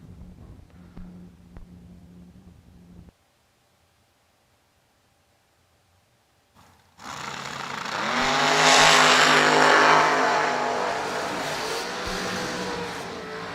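A drag racing car, the 14-12 machine, runs down the track at World Wide Technology Raceway: after a brief quiet gap a loud, steady engine roar swells in and holds strong, heard from a distance with no talking.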